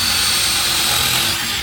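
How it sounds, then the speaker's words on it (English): A power drill bores and reams through a puncture in a truck tyre, a steady high-pitched whine with grinding rub held loud and close for the whole stretch, then cutting off at the end. "get a drill, just put it, let it find its own way through the puncture"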